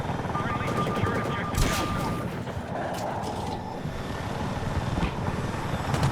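Rockets fired from a helicopter gunner's seat in Battlefield 6 sound in sharp bursts over a constant rotor and engine drone, with a few punchy impacts and a tonal lock-on beep early on.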